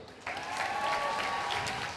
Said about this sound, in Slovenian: en velik aplavz za ravnateljico, za Milani.